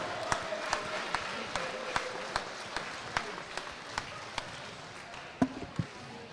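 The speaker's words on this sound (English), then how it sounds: "Give all of them a round of applause." Crowd applause for the 2022 winter homecoming royalty at a high school boys basketball game in a gym, steady clapping with sharp ball-bounce-like thuds cutting through under a PA voice.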